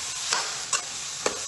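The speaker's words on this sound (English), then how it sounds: "So let your onions fry" Onions fry in a pot for red stew with a steady, bright hiss of sizzling oil, broken by a few soft stirring scrapes, close and alone without talk.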